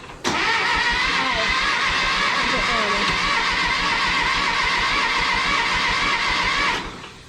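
An old engine starting with a sudden catch, then running at a loud, steady, buzzy idle for several seconds before cutting off sharply, heard close up.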